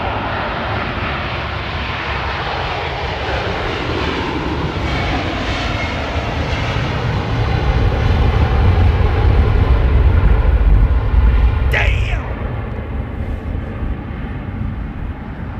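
An airliner with CF6 engines takes off at London Heathrow. A loud, sustained jet roar swells to a deep rumbling peak, then eases off as the plane moves away, with a brief sharp noise near the end. There is no talking.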